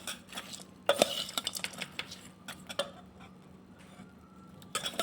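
Fasting bhel is mixed with rock salt and chili in a bowl, making a scattered run of light clinks and taps from a utensil against the dish, close and fairly quiet, with no talking.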